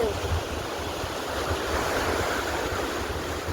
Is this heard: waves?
yes